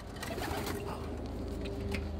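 Domestic pigeons in a loft, including an Indian fantail hen, coo softly and steadily throughout, forming a low, continuous murmur with no talking over it.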